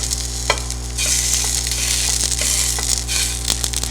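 Chicken lightly browning in a hot pan gives a steady, loud, close sizzle, broken by occasional sharp clicks and scrapes as the pieces are stirred and turned.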